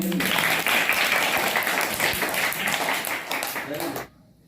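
Children in a classroom clap together in a loud, continuous burst of applause that cuts off abruptly near the end, leaving near silence.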